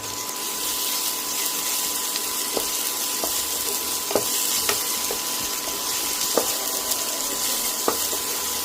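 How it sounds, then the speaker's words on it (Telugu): Ginger garlic paste fries in a pan for a Nellore fish curry with a steady, close sizzling hiss. Small pops and crackles break through now and then. "రెండు రెండు చెంచాలు అల్లం వెల్లుల్లి పేస్ట్ వేసుకుందామండి పచ్చివాసన పోయే వరకు బాగా ఫ్రై చేసుకుందాం"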